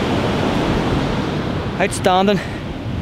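Ocean waves wash steadily at Murder Hole beach, a continuous broad surf roar with wind buffeting the microphone, while a person speaks briefly near the end.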